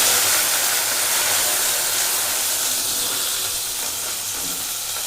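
Mustard seeds and curry leaves sizzling in hot oil for a South Indian sambar, a steady, close, bright hiss of frying with no talk.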